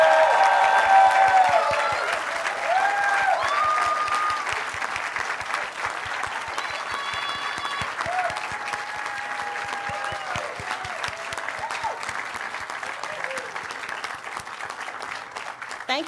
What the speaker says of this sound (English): Let's please give all of our graduates a round of applause.